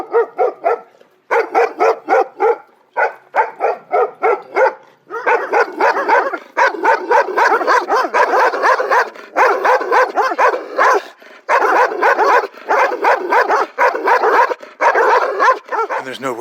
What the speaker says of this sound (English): And they got these two vicious dogs.